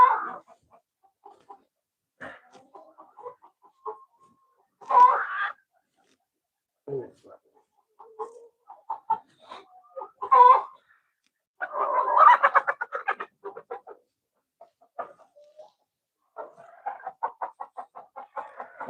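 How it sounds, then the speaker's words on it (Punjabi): Broody hens clucking on a desi poultry farm in short, scattered bursts with pauses of silence between, fairly close, some calls louder and more drawn out; no talking. "ਸਾਰੀਆਂ ਜਿਹੜੀਆਂ ਮੁਰਗੀਆਂ ਬੈਠੀਆਂ ਸਾਰੀਆਂ ਕੁੜਕ ਹੈ ਜੀ"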